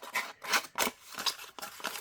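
Paper tag edges being distressed by scraping with the edge of scissors, a series of about six quick rough scratching strokes in an uneven rhythm, close and fairly quiet.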